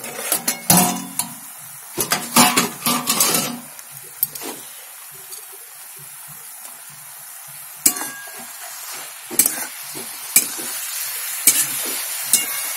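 Cabbage stirred in a pan once the lid comes off: a cluster of close metallic scrapes and clinks over a soft sizzle, then a quieter stretch with scattered spoon knocks against the pan.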